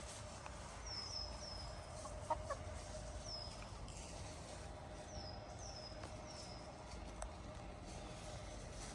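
Chickens in a backyard making soft, faint clucks and short chirps, scattered across a steady low outdoor background hum, with no talking.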